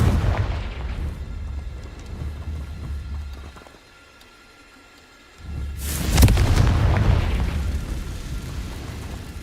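A Confringo spell explodes in Hogwarts Legacy, one loud booming blast with a sharp attack that fades into a rumble, set against a dense, noisy game background that drops away briefly beforehand.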